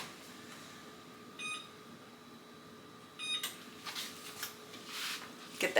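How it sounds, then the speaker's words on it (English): An oven's control panel being switched on and set to 350 degrees for baking date nut cookies, two brief clusters of short electronic beeps in a quiet kitchen, followed by clattering handling noises. "And I forgot to start the oven, so I'm going to do that at 350 degrees"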